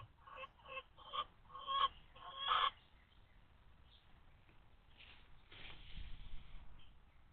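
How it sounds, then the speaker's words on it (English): Chickens in Farming Simulator 25 give a few quick clucks and squawks in short bursts early on, followed by quieter, fainter clucking against a low background. "I know you guys don't mind it because you're watching chickens."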